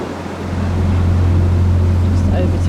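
A narrowboat cruises along the feeder canal toward Bristol's floating harbour, its engine a steady low drone that builds over the first second and then holds level, with water and wind noise layered on top.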